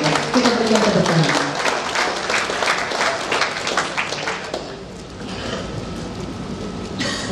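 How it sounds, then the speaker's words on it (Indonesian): Applause fills a hall at a doctors' oath-taking ceremony at Universitas Methodist Indonesia, honoring the top graduate: dense, sustained clapping from a large audience that thins out after about five seconds, with a voice faintly heard beneath it. "Kita berikan tepuk tangan."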